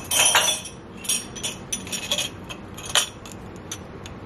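Drinking glasses clink together in a few light, bright taps and jingles, close and fairly soft, with no talking.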